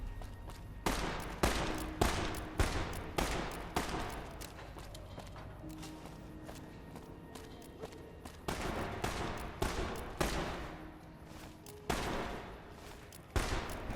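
Gunfire in the video game Fallout New Vegas rings out in clustered volleys of sharp shots, several bursts spread across the stretch with quieter gaps between them, and no talking.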